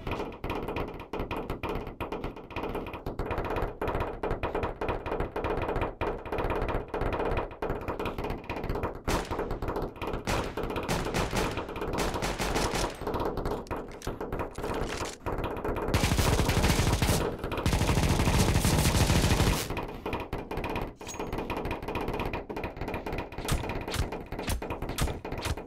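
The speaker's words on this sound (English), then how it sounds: "I compared the ball glitch to some in-game weapons" Rapid rattling bursts from a ball glitch in CS:GO on the new Dust2 map, set against in-game weapon gunfire, dense and loud throughout with a heavier burst near the end.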